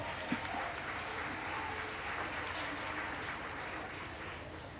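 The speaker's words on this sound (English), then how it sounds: "On peut l'applaudir bien fort" A crowd applauds steadily for several seconds at a paediatric pain conference session, a dense, even patter of clapping that stays at a moderate level throughout.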